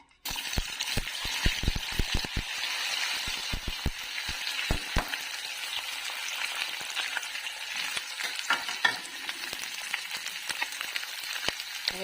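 Potatoes dropped into hot oil with asafoetida in a wok for spicy garlic potatoes fry with a loud, continuous crackling sizzle. Quick metallic clinks and stirring knocks come early, then the frying settles into a steady hiss, close up with no talking.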